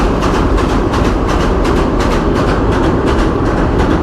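A train running close alongside a motorbike on a shared route gives a loud, continuous rumble with a steady clickety-clack of wheels on rails throughout.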